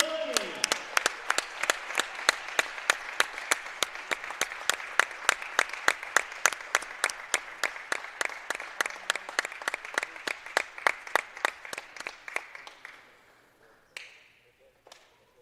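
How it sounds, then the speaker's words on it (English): Crowd applause in a gym at a high school varsity basketball game, a steady wash of many hands clapping for about thirteen seconds before thinning out, with a few isolated claps at the end. "one more big round of applause"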